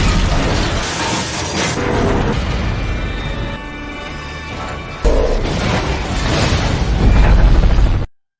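A freight train derailing and exploding in the film Unstoppable: a loud, continuous roar of crashing and rumbling debris that dips briefly, then surges again with a heavy impact before cutting off.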